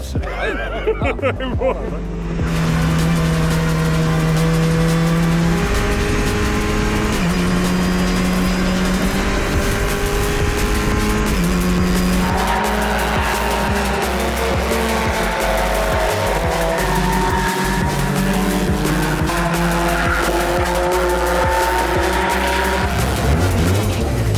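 A VW Fun Cup race car drives around a track, its engine loud and close, rising and falling through the gears with bursts of tyre squeal and a faint babble of voices.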